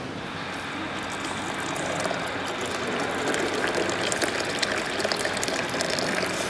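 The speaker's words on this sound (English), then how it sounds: "I'm going to add that to my tasting crockery there, good heaped teaspoon" Just-boiled water poured into tea-tasting crockery during a professional tea tasting of Brazilian tea, a steady close gushing stream with faint rattling texture, running continuously throughout with no talk.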